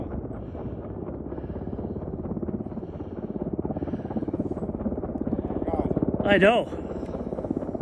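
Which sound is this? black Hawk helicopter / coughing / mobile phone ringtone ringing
black Hawk helicopter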